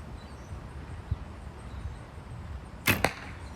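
A bow and arrow released in a quiet space gives a short, sharp whoosh, followed closely by a second brief swish near the end, both close and fairly loud over faint background.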